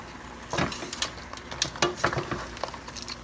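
A spoon stirs clumped coconut milk into callaloo soup in a pot, giving several soft scraping and sloshing strokes at an uneven rhythm, close and moderately quiet.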